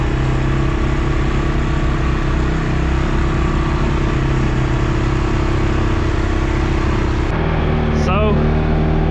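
A CFMOTO CForce 500 ATV engine running in mud, a loud steady drone with a constant low throb that holds throughout, shifting pitch briefly near the end.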